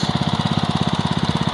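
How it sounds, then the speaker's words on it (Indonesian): A Honda G300 engine runs on an Impala hand tractor used for ploughing rice fields, a loud, close, steady chugging with a rapid even pulse throughout, no voices. "Kata Kang Wawan ini mesinnya adalah G300."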